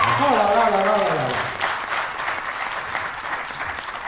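Applause from a crowd at a gaming-show conference stage fills the room for speakers, a continuous wash of clapping that starts under a voice calling out and carries on alone.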